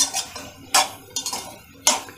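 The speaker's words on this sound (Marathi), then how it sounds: "आता याच्यावर मी झाकण ठेवणार आहे." A metal lid goes onto a pan of cooking kohlrabi with a few sharp clinks and clanks spread over a couple of seconds, close and clear with no talking.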